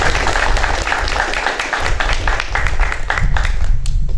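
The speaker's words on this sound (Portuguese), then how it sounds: "Podemos aplaudir." Audience applause at a municipal culture council election assembly in Brazil, fairly loud, steady clapping from a room of people with some rumble and crowd noise underneath.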